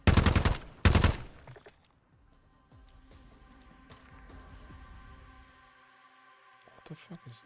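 Gunfire from the Call of Duty MWZ video game opens with loud semi-automatic bursts in the first second. Quieter game sounds and keyboard or mouse clicks follow, with people talking over the top.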